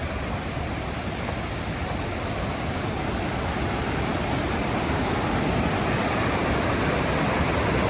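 Illilouette Creek in Yosemite running fast and high, a loud, dense, continuous rush of churning water close by, steady throughout with no pauses.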